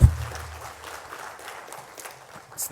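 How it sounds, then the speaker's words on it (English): An audience at the 32nd annual SAARMSTE education conference applauds in a live hall, a steady wash of many hands clapping that holds at moderate loudness for a few seconds, with no voices over it. "Please, can we applaud ourselves"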